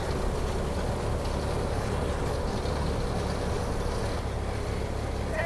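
An old iron vehicle on hard rubber tires rolls along with a steady, rough, broadband rumble and rattle that stays close and constant throughout.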